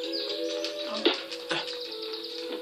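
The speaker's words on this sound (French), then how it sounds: "C'est pas un pigeon, c'est une hirondelle." A swallow in a Tintin video game chirps in quick, bright tweets over a steady tonal game backdrop, with a couple of louder accented calls partway through.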